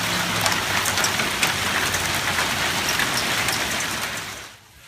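Rain mixed with hail falls hard on a garden, a dense, steady hiss with scattered sharp pattering impacts that fades away abruptly at the very end.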